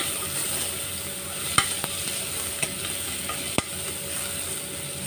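Chopped ginger and garlic sizzle steadily in hot oil with onions while being stirred, a continuous frying hiss punctuated by a few sharp clicks of the spoon against the pan, heard alone without talk.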